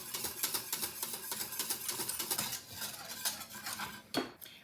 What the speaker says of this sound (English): I am keeping this at a constant stir.